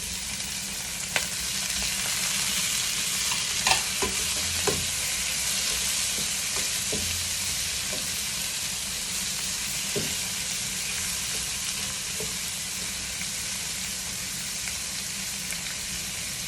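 Onion and tomato sizzle steadily in a hot pan, a dense constant frying hiss broken by occasional scrapes and clicks of stirring, close and continuous without speech.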